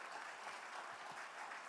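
An audience at an education conference in a large hotel hall claps steadily from a distance, a soft even patter with no voices over it.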